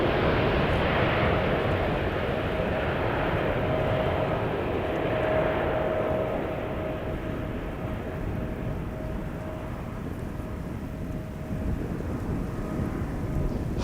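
A KLM airliner at Amsterdam Schiphol Airport roars past as a steady, broad jet rumble with a faint whine, loud and continuous and easing slightly toward the end, with no talk.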